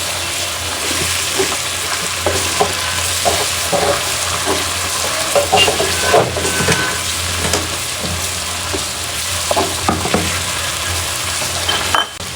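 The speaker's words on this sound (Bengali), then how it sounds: "মশলাটা কষানো হোক।" Spices sauté and sizzle continuously in a hot pan while a spoon stirs them, with steady frying hiss, scraping, and occasional clinks close by throughout.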